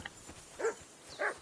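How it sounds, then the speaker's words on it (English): Two short barks from a dog in the medieval video game Kingdom Come Deliverance 2, spaced about half a second apart, fairly faint and alone with no talk. "Jesus, Henry, that barking's driving me nuts. Can you get your dog to shut its beak?"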